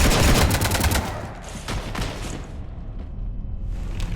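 Rapid gunfire hitting a ship in Mass Effect, a dense loud burst of overlapping shots that thins into scattered, fading cracks and rumble over a few seconds.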